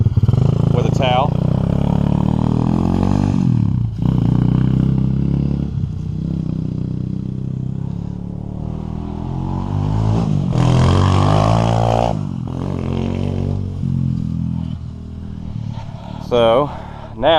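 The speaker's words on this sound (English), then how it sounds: "Riding a little pit bike around" A small pit bike engine ridden around nearby, buzzing and revving up and down in uneven bursts with some clatter, while people talk over it.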